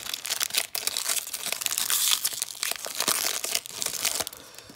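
A 2018 Topps Series 1 baseball card pack wrapper being torn open up close, loud crinkling and tearing foil with sharp crackles in rapid irregular bursts, no talking.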